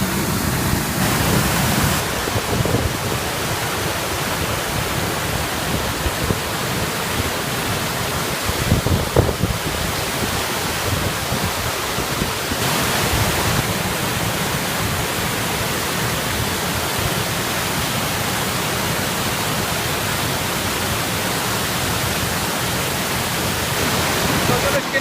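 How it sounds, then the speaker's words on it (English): A waterfall roars in a steady, loud broadband wash that fills the whole stretch, with brief faint gusts and no clear voices above it. "That's just made it to the top of the waterfall."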